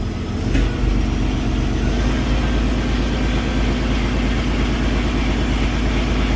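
A Paccar truck engine, fresh from a fuel filter change, runs at a steady 1,000 RPM, a loud, close, even low rumble that holds throughout with no talk.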